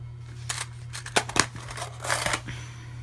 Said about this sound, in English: Cut the yarn with